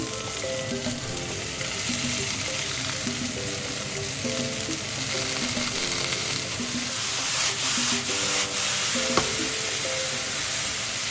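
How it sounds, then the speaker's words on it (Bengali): Snow peas, beans and green peas sizzling steadily in a hot pan, a dense continuous crackle with faint stirring and clinks, close and loud with no talk. "স্নো পিস আর বিনসটা কুক হয়ে গেছে, এবারে এর মধ্যে আমি গ্রিন পিসটাও অ্যাড করে দেব"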